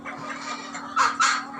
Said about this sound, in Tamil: நம்ம சேவல் பாருங்கள், எல்லாம் லைனேஜ் சேவல் தாங்க.